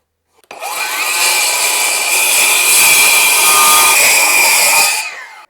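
A board of wood being sawn in a straight cut, a steady continuous rasping that runs nearly five seconds at close range, loud and even from start to stop, with no talking.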